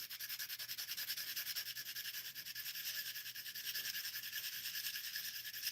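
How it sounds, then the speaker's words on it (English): Sandpaper rubbing the glued end of a handmade pen, a steady close scratchy hiss with slight rhythmic strokes continuing without pause. "just get a little sanding right on the end."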